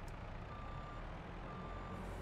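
A truck backing up in Farming Simulator 22, its reversing alarm beeping in a steady repeating pattern over a low engine rumble, fairly quiet and without voices.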